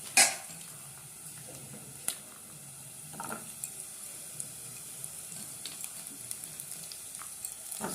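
Onion and peas frying in a pan while being stirred: a low, steady sizzle continues throughout, punctuated by a sharp utensil clank at the start and scattered light scraping taps.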